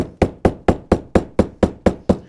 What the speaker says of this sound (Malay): Ketuk dulu. Main ketuk lagi kan?